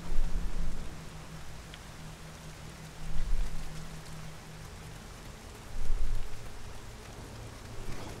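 Steady rain falls in the Nioh video game, a continuous close hiss of drops on surfaces, with low rumbling swells around the start, the three-second mark and the six-second mark.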